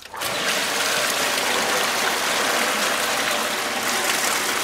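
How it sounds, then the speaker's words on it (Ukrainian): A swimming pool sand filter pump runs in rinse mode, a loud, steady broadband whooshing hiss of rushing water that starts abruptly and holds for several seconds. "вмикаємо знову насос на пів хвилини"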